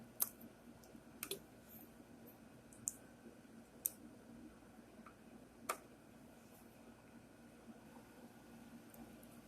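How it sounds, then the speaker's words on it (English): Screws are taken out of an antique sewing machine with faint, sparse metallic clicks and ticks scattered over a quiet background, close by and soft, with no voices. "I will remove those screws."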